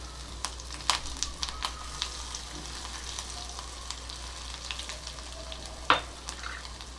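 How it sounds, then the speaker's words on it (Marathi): Crushed garlic cloves and curry leaves sizzling in hot oil in a pan for a Kokum rasam, with soft continuous frying hiss, a few sharp crackles and spatters, and an occasional stir or clink of a spoon. "चार पाच लसणाच्या पाकळ्या ठेचून घेतल्यात त्या घालते"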